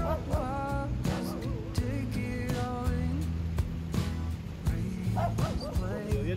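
Five or six dogs on a beach barking and whimpering together, a busy overlapping chorus of yips and whines that carries through the whole stretch, fairly close and with no talking.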